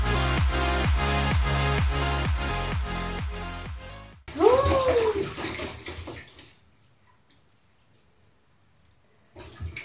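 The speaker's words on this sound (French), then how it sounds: "Je vais rincer mes mains." Running tap water splashes steadily over rinsing hands in a bathroom for about four seconds, then cuts to a brief wet swirl and near silence, with one more short burst of running water at the end.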